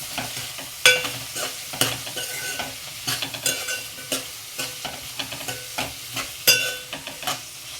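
Onions frying with a spoonful of salt in a pan, stirred with a spoon: steady close sizzle broken by repeated sharp scrapes and clinks of the utensil against the pan, no voices.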